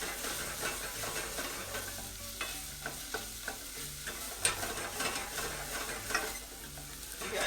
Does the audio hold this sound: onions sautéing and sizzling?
yes